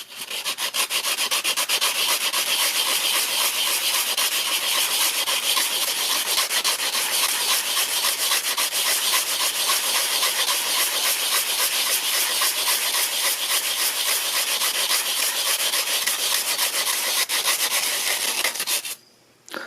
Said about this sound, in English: go around your brake rotor and scuff it up with some sandpaper